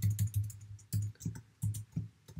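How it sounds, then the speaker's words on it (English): Keys clatter on a computer keyboard as an equation is typed out, close, quick clusters of clicks in short bursts separated by brief pauses. "I'm just typing it out"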